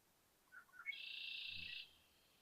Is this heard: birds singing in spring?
yes